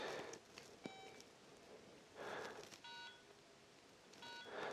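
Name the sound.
Motorola mobile phone ringtone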